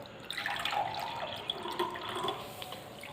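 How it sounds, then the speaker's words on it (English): Water poured into two glasses, a soft, continuous trickle and splash close by, fairly faint, with no talking over it. "take two glasses and pour some water in both"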